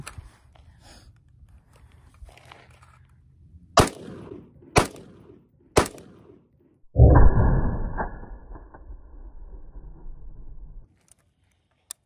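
Three sharp rifle gunshots from a 10.3 inch barrel fitted with a JMAC RRD-2C muzzle device, fired outdoors into dirt, evenly spaced about a second apart, followed by a louder rumbling burst of noise that fades over several seconds.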